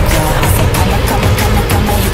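A Mercedes C63 AMG engine roars steadily at high load on a dyno during a measurement run, loud and close, a dense continuous drone with no letup.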